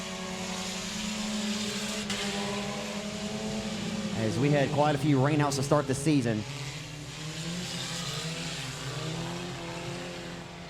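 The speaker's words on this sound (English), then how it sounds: "Down the back straightaway, winding the laps down here in your final heat of the afternoon, your second four-cylinder heat race." Four-cylinder race cars lap a dirt speedway at 67 Speedway of Texarkana in a heat race, engines droning steadily with one car rising and falling loudly past mid-clip, while an announcer talks throughout.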